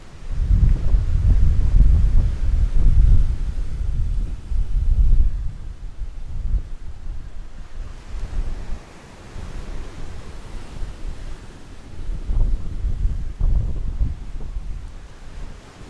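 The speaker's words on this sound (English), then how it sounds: "There's some pretty big waves along here today." Big waves surge and crash along a windy shore beside a promenade, deep rolling rumbles swelling and fading in repeated sets under constant gusting wind buffeting the microphone.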